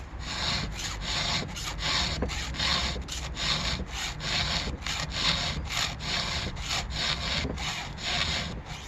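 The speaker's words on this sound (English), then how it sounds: "And I don't want to file these teeth back a whole lot on the top." Hand file rasping across the teeth of a chainsaw chain during rip sharpening, a steady run of close, rhythmic scraping strokes roughly every half second, gritty and continuous with no talking.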